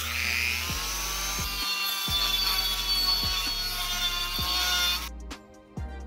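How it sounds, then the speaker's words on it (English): Dremel rotary tool grinding out a drilled hole in metal to one inch, a high, steady whine with rhythmic dips as the tool bites and lifts, close and continuous, then stopping near the end. "I'll grind the rest of this all the way to 1 inch with the Dremel"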